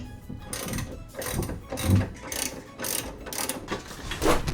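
A ratchet snugs a bolt on a Miata rear sway bar. Close, quiet clicking bursts repeat in short uneven strokes with brief pauses between them.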